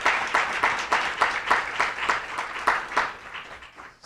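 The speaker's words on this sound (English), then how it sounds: "So a big round of applause to all the donors who've really helped make palliative care possible." Audience members at a healthcare keynote on palliative care give a hearty round of applause, many hands clapping in a thick, slightly pulsing wave that fades toward the end.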